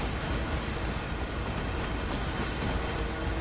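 A locomotive in Train Sim World 2 during switching work: a steady, loud rumbling roar of the engine and rolling train, continuous and close, with no talking.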